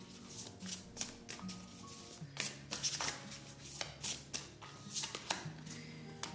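Tarot cards are shuffled in repeated quick riffling bursts, crisp papery flutters close by with short pauses between them, and no talk over them.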